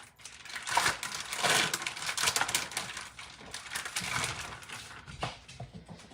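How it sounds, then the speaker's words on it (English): Knife cutting and dicing a ham steak on a board, a continuous run of crackly chopping and scraping strokes, close and fairly loud, with uneven rhythm. "let's cut up this ham steak."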